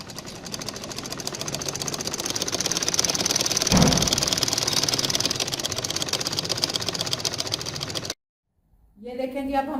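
A sewing machine stitching the hem of a salwar runs in a fast, steady mechanical whir, close and loud for about eight seconds before stopping abruptly, with a brief quieter sound afterward.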